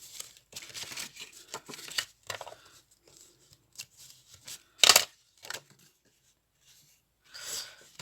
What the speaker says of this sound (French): Maintenant, on va marquer les plis de celle-ci.